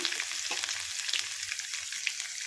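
Cumin, mustard seeds, chana dal and crushed garlic crackle and sizzle steadily in hot oil for a tempering, a close, continuous frying hiss with small pops and no voices.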